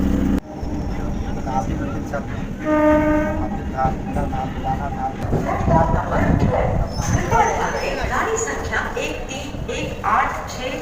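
A local train pulls into platform four at Sealdah station, running about thirteen minutes late. It sounds a horn partway through over rumbling carriages and platform bustle, with someone talking throughout.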